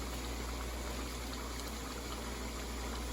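Meat cooks down in a pot with a steady, loud bubbling and hiss that stays constant throughout, with no speech.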